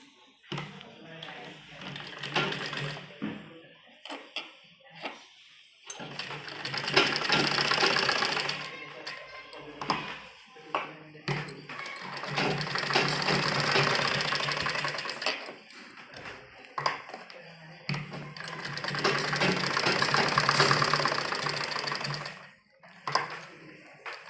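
A sewing machine stitches the front neckline of a baby frock in three longer runs of fast, even rattling, separated by pauses with handling noises and a voice talking between them.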